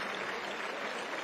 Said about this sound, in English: the crowd is on their feet applauding